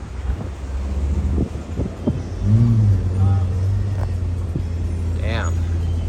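A Lexus LFA sports car drives past on a Beverly Hills street, a low engine rumble swelling midway and lingering, with wind noise on the microphone and people talking excitedly nearby.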